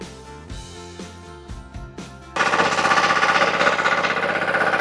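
A mini four-wheel tractor, model FTI2010DE, starts up with a loud, steady, rapid chugging roar after a quieter stretch of mechanical rattling, close and continuous.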